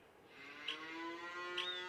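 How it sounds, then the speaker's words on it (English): Cattle mooing in an open field, two drawn-out harmonic moos in quick succession, heard at moderate distance with a faint background. "So many cows."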